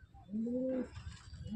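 A pigeon coos close by, one soft low rising coo followed by the start of another, with faint background rustle.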